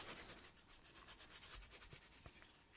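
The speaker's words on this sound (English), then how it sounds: "I'm gonna clean this up with some Scotch-Brite as always." Scotch-Brite pad scrubbing a 1:64 scale El Camino model body, faint close rubbing strokes in a quick uneven rhythm.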